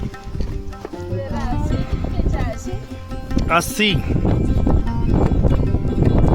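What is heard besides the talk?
horse hooves on mountain path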